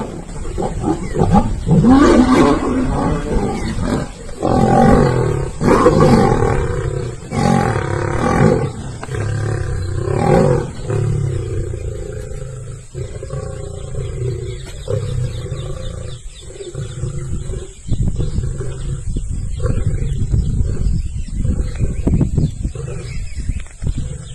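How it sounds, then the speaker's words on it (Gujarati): Two lions fighting in the jungle: loud, close, repeated roars and harsh snarls come in rough bursts, easing into lower growls later, with no talk. "હવે આપણે જોઈએ જંગલમાં બે સિંહોની લડાઈ"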